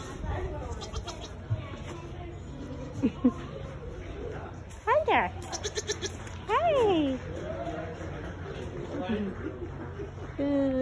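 Goats, including young kids, bleat repeatedly at a farm outing, several wavering cries mid-clip, nearby and fairly loud, with people chatting and greeting the animals throughout.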